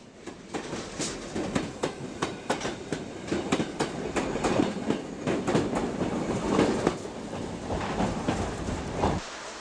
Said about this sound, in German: Hier der Zug bei der Ankunft in Charlottenburg.